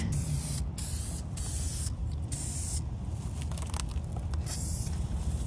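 A spray can hisses in several bursts, short pauses breaking the loud, close spraying.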